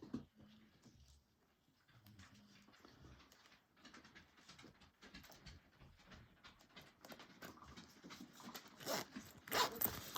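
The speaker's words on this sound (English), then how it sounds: "now we're going to add our zipper pulls" A zipper and zipper pulls are handled while they are fitted to a sewn crossbody bag: quiet, close rustling and small metallic clicks and zips that grow busier toward the end, with no talk.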